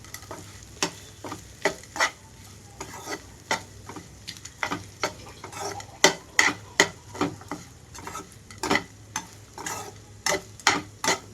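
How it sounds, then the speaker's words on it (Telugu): Cooked rice being stirred into an ajwain tempering in a pan, with a steady run of sharp spoon scrapes and clicks over a low sizzle, close and fairly loud with no talking. "మొత్తం అన్నం అంతా కలిపేసుకోవాలి తాలింపులో"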